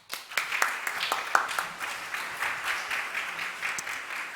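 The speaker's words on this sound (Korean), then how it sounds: "나오실 때 우리 환영하는 거 박수로 환영해 드리겠습니다" A church congregation applauds steadily to welcome a guest preacher, soft diffuse clapping from a room full of people with a few sharper nearby claps, moderately quiet and continuous.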